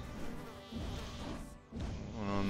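Bees buzz in the video game Grinders of Icarus 2, a busy insect drone layered in dense game sound, with a brief dip midway before the buzzing swells again and holds steady to the end.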